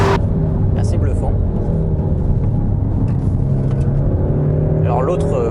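A Peugeot 308 GTi accelerates out of a corner on a dry track, its engine a loud steady drone with rising tones throughout, while someone talks over it.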